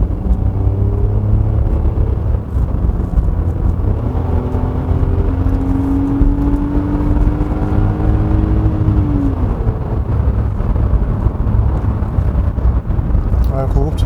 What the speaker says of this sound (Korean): 엔진은 이제 목이 터져라 소리를 지르면서 일을 하지만